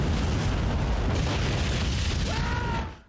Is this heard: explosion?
yes